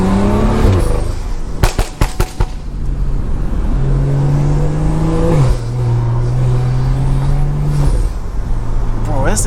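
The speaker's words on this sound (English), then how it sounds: "this intake sounds crazy" A Stage 2+ tuned BMW's engine and intake roar under hard driving, loud and close from inside the car, with rising and falling revs, a burst of sharp pops around the gear changes, and a steady drone between.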